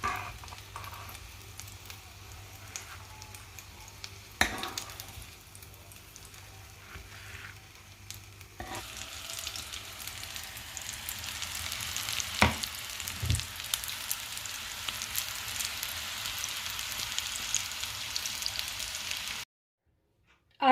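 Aloo and chicken tikki frying in a pan, with a steady close sizzle that swells louder partway through, broken by a few knocks of a utensil, before stopping abruptly.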